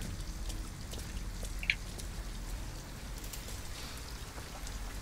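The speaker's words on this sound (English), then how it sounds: "At least we'd be out of the rain." Rain in the video game Detroit: Become Human, a steady, moderate hiss of falling rain with scattered faint drips and one small sharp tick, continuous and unaccompanied by voices.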